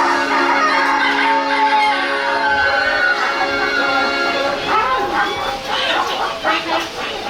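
Mechanical-sounding animatronic chicken clucks and a rooster crow ring out loudly at an attraction in Pigeon Forge, with busy crowd chatter building underneath toward the end.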